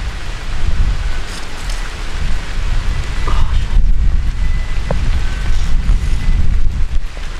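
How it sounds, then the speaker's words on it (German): Steady, heavy rain hisses continuously, loud and close, with no breaks, at a river during magnet fishing. "Der Regen."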